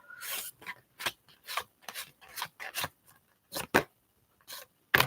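A deck of tarot cards is shuffled in a series of short, papery riffling and rubbing bursts, irregularly spaced with quiet gaps, close up and with no speech.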